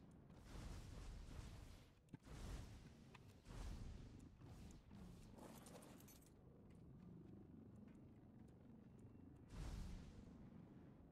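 Several deep booming blasts at irregular intervals, loud and close, with rumbling noise in between, like a cannon firing in the video game ARK while taming an Astrocetus.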